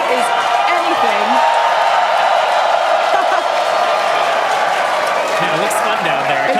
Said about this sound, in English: Everyone's cheering as we get into T-minus 5 minutes